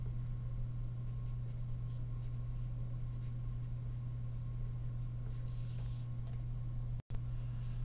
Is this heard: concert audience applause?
no